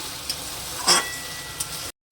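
Soybean curry with spices being sautéed in a pan, a continuous soft sizzle with one brief louder scrape of a spoon midway, then it cuts off abruptly.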